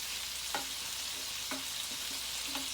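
Meatballs fry in a Power XL cooker with a steady, close hiss of sizzling fat, broken by a few light scraping knocks as they are moved around.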